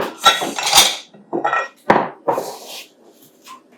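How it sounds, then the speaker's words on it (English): A hot homemade summer bronzer mixture is stirred in a pot, giving irregular clinks and scrapes of a utensil against the metal in short bursts, close and fairly quiet, with no talking. "Just giving it a little stir, and then we're going to close it."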